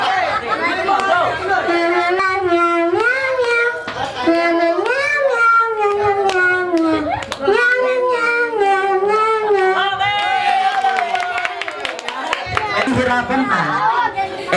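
A person imitates a cat with repeated exaggerated meows, rising and falling in pitch, loud and close, amid playful chatter at a birthday gathering.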